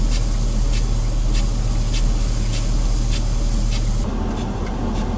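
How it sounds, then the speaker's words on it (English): Water spraying from a large elevated center-pivot irrigation rig on motorized wheel platforms circling farm fields in rural Sumter County, Georgia, a steady loud broadband hiss with faint rhythmic pulses, ending in a slightly thinner wash. "Large elevated piping systems atop presumably motorized wheel platforms, which circle the fields spraying water,"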